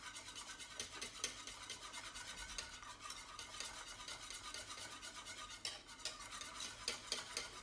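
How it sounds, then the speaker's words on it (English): Oatmeal porridge being whisked in a pot, a quiet, fast, regular scratching and swishing of the whisk against the pan, continuing steadily throughout. "Now, so keep it whisking"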